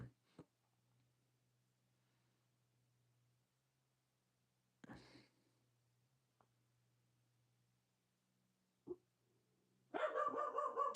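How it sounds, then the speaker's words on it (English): Dogs barking at something outside, a few sharp isolated barks spaced apart over a quiet hum, ending in a louder burst of barking. "there's something outside that's making my dogs go mental"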